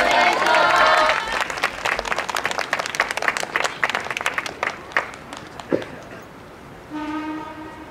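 Applause and cheering from an audience at a yosakoi dance performance, dense rapid clapping filling the start, thinning to scattered claps before a sustained tone and shouting come in near the end.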